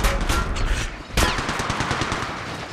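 Rapid gunfire in the mobile shooter Apex Legends Mobile, a dense burst of shots followed by a sharp loud crack and continued rattling fire, close and loud with no talk.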